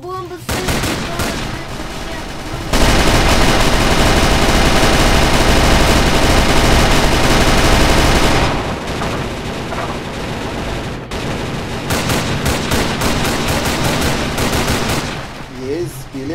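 Artillery and rapid gunfire in the Roblox game Zeppelin Wars, loud sustained bursts of automatic fire with short pauses between volleys, while a player speaks faintly in the background.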